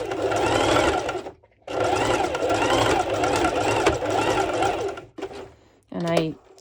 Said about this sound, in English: Okay, so I'm just doing a zigzag stitch,